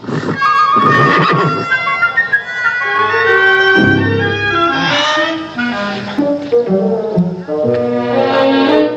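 A horse neighs and whinnies loudly and at length, close by, with shifting high and low tones and no talking.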